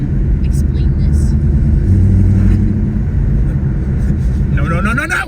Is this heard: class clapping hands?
no